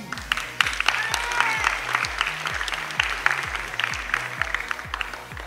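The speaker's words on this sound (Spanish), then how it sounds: "Un aplauso Paqui." Audience applause at the prize ceremony of an international open chess tournament in Conil, a steady mid-distance clapping over low background hum, with a brief voice in the room.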